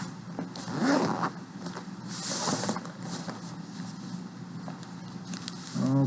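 A zipper being pulled open on a case, a long rasping zip followed by handling noises and another short zip, close and clear.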